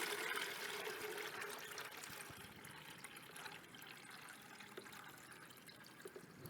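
Water is poured into a container for a homemade eco-enzyme mix, a steady, soft rushing and splashing stream that runs continuously and fairly quietly, with no speech.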